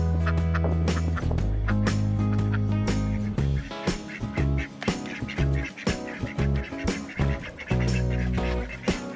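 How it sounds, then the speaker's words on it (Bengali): A flock of ducks is driven along on a cattle farm in Bangladesh. Dense, continuous quacking and honking fills the air, with loud overlapping calls in uneven bursts. "চলুন একটু হাঁস তাড়িয়ে আসি।"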